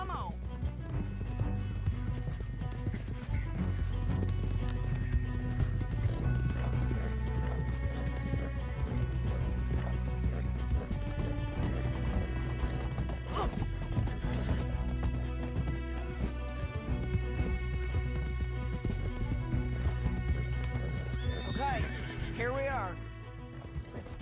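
Horses in Red Dead Redemption 2 whinny and clip-clop steadily over a thick music score, with a few sharp crashes near the end.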